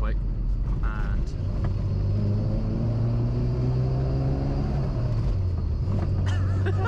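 A classic Mini pulls hard in second gear, its engine note a steady loud droning rumble whose pitch climbs gradually over several seconds, heard close from inside the car.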